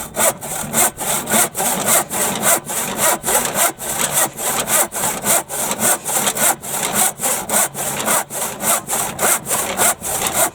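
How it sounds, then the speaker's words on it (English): Hand saw cutting through wood for a garden fence, steady back-and-forth strokes in an even rhythm, close and clear with no talking. "I've got a lot of sawing to do, which is not my forte."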